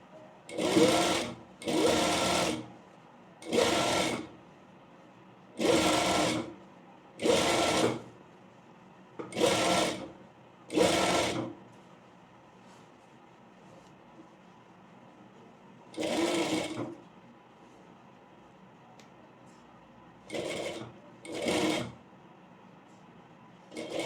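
Sewing machine stitching a layer frill frock in light fabric, running in a string of short loud bursts separated by brief pauses, close and clear with no talk.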